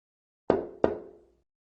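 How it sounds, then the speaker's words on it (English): Two quick knocks on a door, close and fairly loud, each a hollow rap with a short ringing decay, followed by silence. "Isn't that somebody knocking on a door?"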